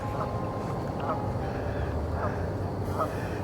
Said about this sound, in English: Wow. Geese.